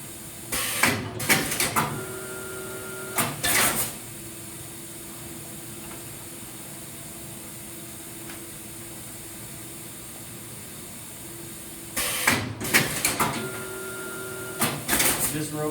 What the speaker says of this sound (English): The robot then comes down, presses the button in order to cycle the feeder.